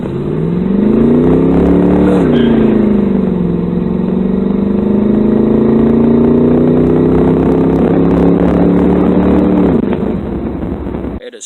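A Pontiac Trans Am with a stock small-block V8, a stock 700R4 automatic and a 3.23 rear gear revs steadily and loudly up close, its engine note dipping at firm, abrupt gear shifts.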